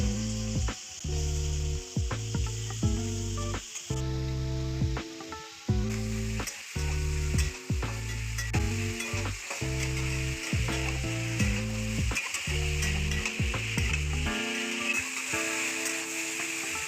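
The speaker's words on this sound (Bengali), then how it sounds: "আলুটাকে আমি এখানে হালকা করে ভেজে নিচ্ছি" Potatoes fry lightly in oil in a wok for a ridged gourd and potato poppy-seed dish, a steady sizzle under repeated rhythmic scraping and clanking of a spatula, close and without speech.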